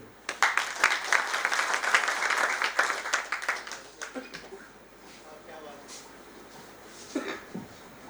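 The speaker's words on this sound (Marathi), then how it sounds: "जोरदार टाळ्या" Audience applause at a Marathi award ceremony, a loud burst of clapping over the first four seconds that then fades into quieter crowd murmur with a few scattered claps.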